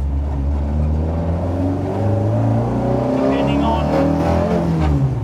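A Ford Escort MK1 race car engine idles with a deep, steady, loud rumble and slight rises in pitch, heard close throughout with no pauses.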